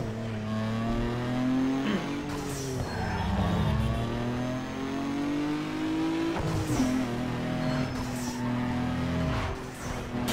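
Car engines rev hard in a drag race in the video game Need for Speed Underground 2, with loud sustained engine drones rising and dropping through gear shifts, continuous and close throughout.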